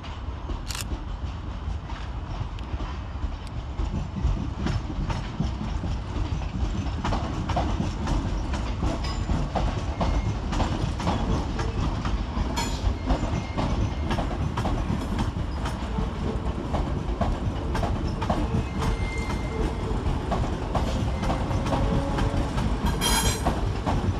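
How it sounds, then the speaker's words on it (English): ScotRail electric trains, units 318-255 and 318-259, terminating at Glasgow Central station: a steady, loud rumble of rolling stock with occasional clicks and clanks from the wheels, continuous throughout with no talking. "Terminating with a ScotRail service off of Lark Hall is 318-255 and"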